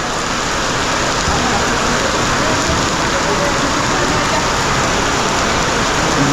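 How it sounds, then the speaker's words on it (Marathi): Heavy monsoon rain pours steadily in a dense, unbroken hiss, loud and close, with no pauses, at Marleshwar temple in Konkan. "जोरदार असा पाऊस आला आहे"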